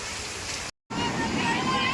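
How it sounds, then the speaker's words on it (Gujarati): Steady rushing hiss of heavy monsoon rain with wind, broken by a brief moment of silence before the downpour continues. "જોરદાર ભાઈ વરસાદ છે."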